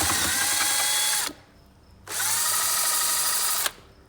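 A power drill mixing cement whirs in two long high-pitched bursts, each running about a second and a half with a short pause between.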